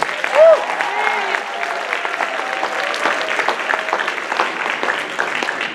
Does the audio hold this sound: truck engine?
no